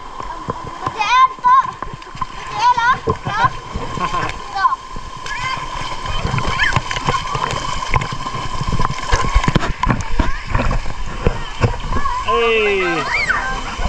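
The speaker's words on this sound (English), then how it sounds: "Getting splashed, getting splashed," Water splashes and sloshes as swimmers play and dive in the pool below Tula Tula waterfall in the Philippines, with busy splashing throughout under excited talk, shouting and children's voices.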